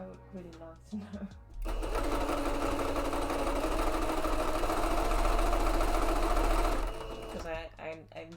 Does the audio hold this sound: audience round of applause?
no